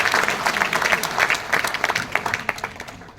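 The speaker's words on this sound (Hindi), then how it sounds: "एक बार जोरदार तालियों से सम्मान" An audience at a seminar in Ahmedabad claps together in sustained, dense applause, loud and even throughout with no pause, and a faint murmur of voices underneath.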